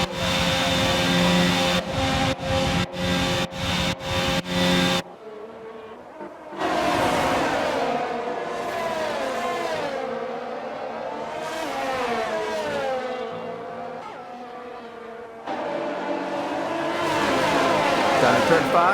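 Formula 1 car engine in the F1 22 racing game at the Emilia Romagna Grand Prix, loud high revving with rapid gear-shift cuts, then a brief drop and rising, falling whine through the straight, no voices.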